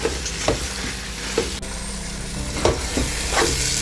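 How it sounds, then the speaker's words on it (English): Leaves stirred into a thick paste in a sizzling pan, with a steady close fry hiss broken by several scraping strokes of the spoon against the pan. "Then I'll give it a good stir."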